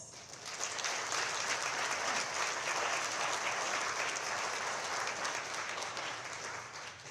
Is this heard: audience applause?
yes